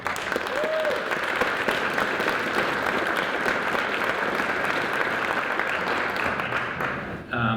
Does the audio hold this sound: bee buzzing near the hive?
no